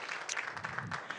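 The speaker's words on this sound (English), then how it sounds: "Now we can give it an actual round of applause for all of our winners." Applause from the audience at a school district governing board meeting honoring student award winners, a dense steady patter of many hands clapping for just over a second.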